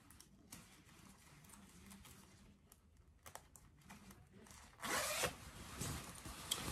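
Faint rustling of fabric gives way to a sharp, scratchy zipper pull, followed by more crinkling cloth handling up close.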